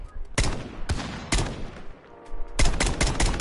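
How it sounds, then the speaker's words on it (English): Loud bursts of automatic gunfire in the video game Call of Duty, several rapid volleys separated by short pauses, with a sustained burst at the end. "I'm shooting."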